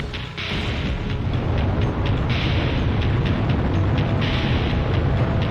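Bombing explosions in the video game Ace Combat Zero during an air raid on a burning city, a continuous deep roaring rumble of heavy blasts with hissing bursts rolling steadily throughout.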